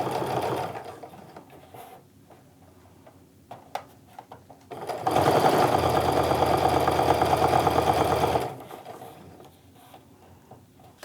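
A sewing machine topstitches the folded edges of a canvas and cork wristlet in one steady, loud burst of a few seconds, with quieter handling of the fabric before and after.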